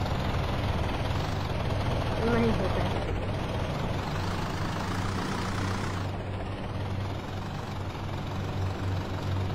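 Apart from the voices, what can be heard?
tractor engine in video game Indian Bike Driving 3D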